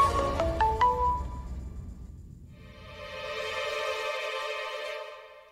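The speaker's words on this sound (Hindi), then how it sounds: "मैं प्रज्ञा को फोन लगाती हूँ।" A few short beeps give way to a sustained ringing tone on an outgoing phone call, moderately loud, with no voices.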